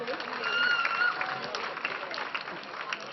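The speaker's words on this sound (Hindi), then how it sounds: "जोरदार तालियां हो जाए" A crowd applauds performers with a continuous, muffled wash of clapping, while voices rise over it throughout.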